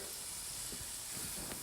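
Prawn risotto ingredients sizzle in a hot pan, a soft, steady hiss with a few faint pops, fairly quiet and close.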